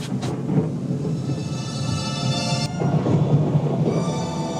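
Thunder rumbles with a deep, rolling boom that swells and fades over a few seconds, loud and close, with a faint hiss of rain underneath.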